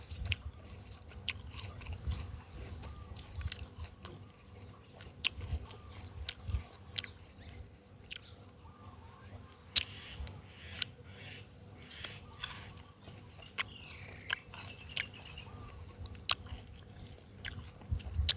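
Crunchy fresh guava being bitten and chewed close up, a steady run of crisp crunches and wet mastication with sharp bite clicks repeating throughout, no talking.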